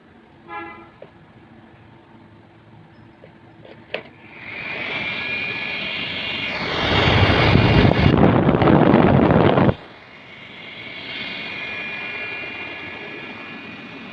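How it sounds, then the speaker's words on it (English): A room heater's blower motor, rewired to run from a 12 volt adapter, whirs to life, surges louder for a few seconds with a rough roar, then drops back to a steadier, quieter hum. "I have installed the wires of this blower with this 12 volt adapter, and let me check it again, and you can listen the sound of this blower."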